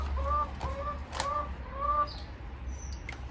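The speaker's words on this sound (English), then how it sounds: "Can you hear the chicken?" A chicken clucks in a short run of repeated calls, fairly close, over a low steady hum, then trails off into quiet.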